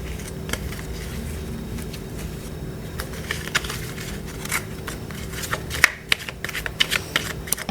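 Playing cards being shuffled and handled for a tarot-style card reading, a steady close papery riffling throughout with sharper snaps and flicks toward the end, no voices.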